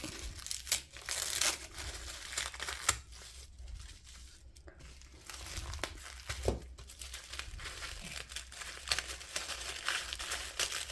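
Paper wrapping around a Daphné's Diary magazine crinkles and rustles continuously while being unwrapped, with a few sharper tearing rips along the way, close and fairly loud.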